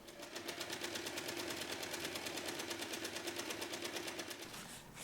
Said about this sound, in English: top stitch only the other side of the pocket, the side without the opening